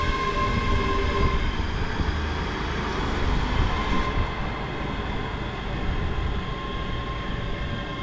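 A train runs through Wallyford station with a continuous loud rumbling roar of rail wheels and carriages, steady throughout with a faint whine, close and without talk.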